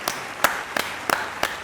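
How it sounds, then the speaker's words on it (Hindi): A few slow, isolated hand claps, about four spaced evenly and close by, offered as applause for an actress on a Pakistani drama review show. "ये वाली ताली आपके लिए"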